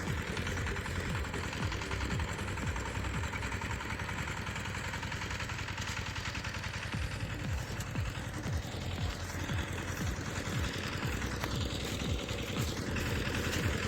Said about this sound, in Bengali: দেখেন এই কৃষক পাওয়ার টিলার দিতে হচ্ছে